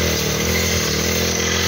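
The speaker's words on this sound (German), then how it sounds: "in der Maschine, in der Motorsense, und das schneidet richtig gut." A gas brush cutter (Motorsense) fitted with a cutting blade runs at a constant loud two-stroke whine, close and unbroken, with no speech.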